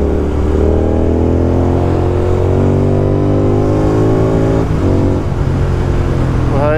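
A Continental GT motorcycle with a loud exhaust revs hard on a rainy ride, the engine note sweeping up and down in pitch, close and continuously loud, ending in a sharp rising rev.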